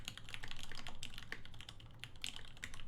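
Steady typing on a PC Salamander mechanical keyboard fitted with heavier-sprung Gateron Ink switches, a relaxed, fairly slow run of crisp clacks close up, with no one speaking.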